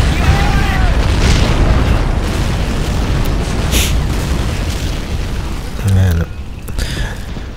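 Heavy explosions from an artillery salvo rumble and boom throughout a Men of War: Assault Squad 2 battle, dense and loud, with a sharper blast near the end and a voice speaking briefly.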